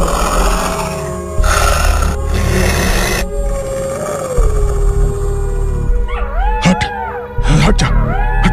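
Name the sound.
fox growling at a man, horror story sound effect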